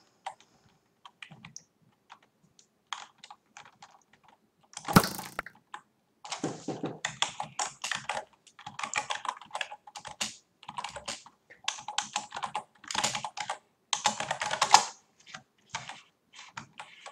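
Rapid typing on a computer keyboard during a game of Egg Wars, with close, crisp key clicks in bursts and brief pauses, plus one louder clatter partway through.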